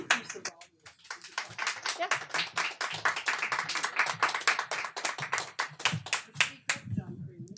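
An audience at Politics and Prose bookstore claims to welcome author John Freeman with steady, close applause, many hands clapping in a dense patter that carries through to the end.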